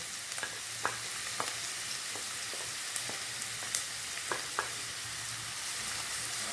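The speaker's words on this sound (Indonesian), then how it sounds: "Sekarang kita tumis dulu bawang merahnya sampai kecoklat-coklatan ya" Steady oil sizzling from shallots sautéing in a pan, in oil left from frying fish, with a few faint clinks and stirring taps throughout.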